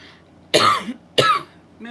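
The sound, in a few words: coughing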